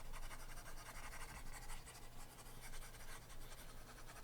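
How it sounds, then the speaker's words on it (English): An eraser rubbing algebra writing off a classroom board, a faint continuous scratchy swishing that holds steady for several seconds with no voices. "I'll erase this stuff."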